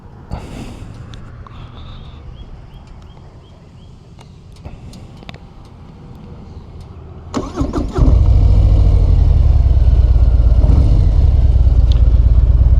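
A 2025 Harley-Davidson Fat Boy Gray Ghost motorcycle engine cranks and catches around the middle, then settles into a loud, steady, deep idle that continues to the end.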